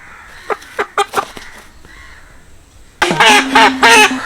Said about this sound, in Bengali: মুরগিটা